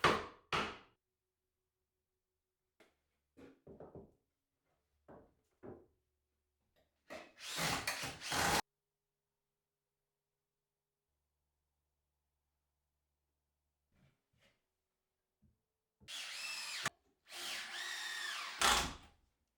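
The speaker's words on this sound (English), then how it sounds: "I can get some holes drilled with a countersinking bit along the bottom and the edges of the staves" A power drill fitted with a countersinking bit bores holes in whisky barrel staves, giving several short whirring bursts separated by silence, with longer loud runs near the middle and the end, close and with no talk.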